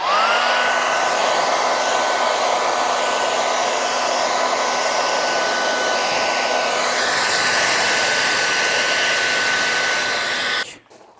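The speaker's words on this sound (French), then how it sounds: "Peut-être un coup de sèche-cheveux, non?" A hair dryer blows with a loud, steady whoosh and high whine, then switches off near the end.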